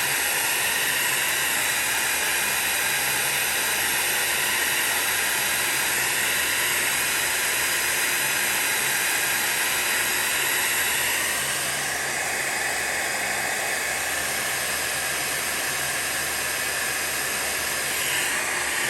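A hair dryer blows with a loud, constant airy roar and hiss that runs unbroken throughout, easing slightly partway through.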